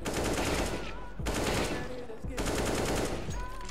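Rapid gunfire bursts from the video game CS:GO, loud and close, in repeated short strings of shots separated by brief gaps, with faint clicks and tonal game sounds mixed in.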